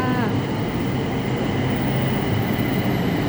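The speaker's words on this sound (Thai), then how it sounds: "รถไฟมาแล้วจ้า" A BTS Skytrain pulls into a station in Bangkok, a steady, loud rumble of rail cars with a brief high wheel squeal at the start, continuous throughout.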